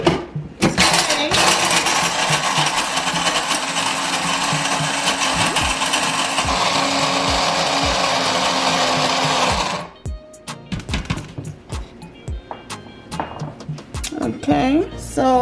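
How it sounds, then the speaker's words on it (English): A small electric coffee grinder grinding ogbono seeds whirs loudly and steadily for about nine seconds, then stops, followed by scattered clinks and handling noises. "this is Kuta blender, coffee blender here that I'm using, and hoping it does stand to spin"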